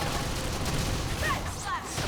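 Gunfire in the video game Xenoblade Chronicles X during a battle, a dense steady roar of shots with a couple of brief whooshing tones over it.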